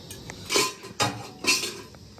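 Metal kitchen pots and dishes clatter as they are gathered and set down for soaking, three distinct close clanks spaced about half a second apart with lighter clinks between.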